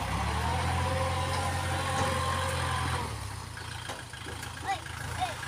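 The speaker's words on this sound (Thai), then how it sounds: "เดี๋ยวพ่อขี่รถไถมาแล้ว" A farm tractor engine chugs with a steady low throb for about three seconds, then drops to a quieter idle, while people talk nearby.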